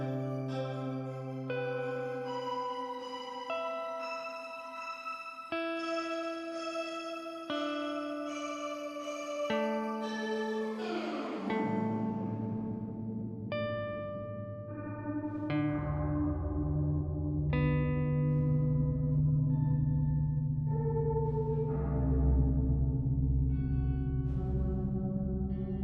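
Ascent Reverb app by Audio Damage on iOS swells a sequence of tones into a long shimmering, blooming, pitch-shifted reverb wash, starting as clear melodic notes and thickening into a dense, sustained tail.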